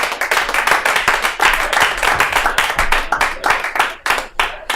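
A comedy club audience applauds a comedian, dense hand clapping filling the room steadily throughout, loud and close, with a few brief voices mixed in.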